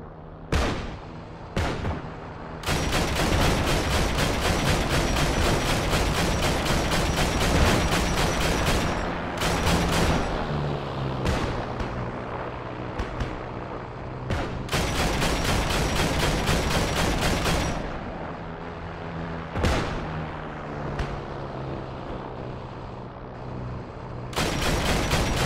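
Tank main gun and gunfire in Heroes & Generals: loud, sharp reports and bursts of firing come repeatedly over about twenty-five seconds, with long dense stretches of sustained shooting broken by single heavy blasts.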